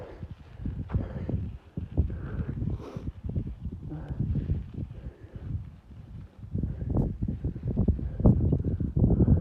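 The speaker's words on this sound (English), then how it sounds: "It's really rainy up here. Really windy." Strong gusty wind buffets the microphone on a rainy mountain top, a loud continuous rumble with rustling and surging gusts throughout.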